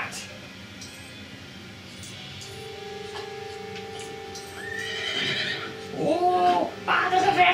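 A horse neighs toward the end, with hoof clip-clops and background sounds from the game LEGO Harry Potter Years 1-4 building over several seconds.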